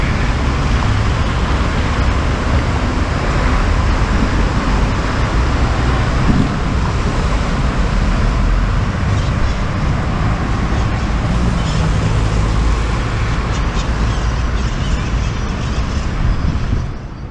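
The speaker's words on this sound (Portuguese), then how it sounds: "ventania do cacete aqui" Strong wind blowing outdoors beside a road, a loud, steady roaring rush that buffets the microphone continuously, with a low rumble of passing traffic mixed in.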